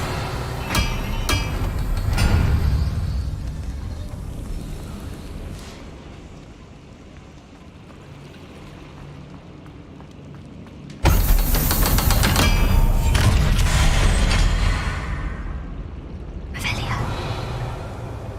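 A Confringo spell in a Hogwarts wizarding video game erupts as a sudden loud blast that roars for several seconds before fading, preceded by quieter game sounds and talk, with a second burst near the end.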